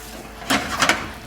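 Rice being stirred through melted butter in a pan for risotto Milanese: two short scraping strokes close by, fairly crisp, with no talking.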